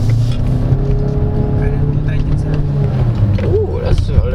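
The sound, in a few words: MG One car engine accelerating in Super Sport mode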